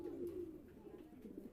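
A male Lahori Sherazi pigeon gives a soft, low throaty coo, quiet and close, lasting a moment with a second warbling phrase.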